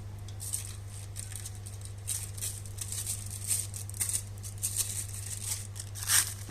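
A plastic bag is pulled open and handled beside a plate while preparing homemade burgers, giving soft crinkles and tearing rustles in scattered bursts over a steady low hum, close and moderately quiet.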